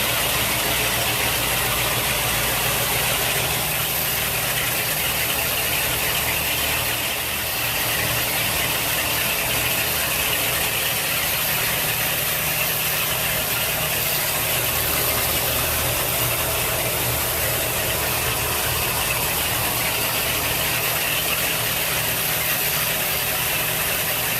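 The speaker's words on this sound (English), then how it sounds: "Very quiet motors." A steady, low rumbling hum of a Sea Ray 330 Sundancer boat's motors idling, unchanging throughout, with no voices.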